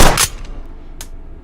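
A single sharp gunshot in the VR game H3VR with a short decaying tail, then a faint click.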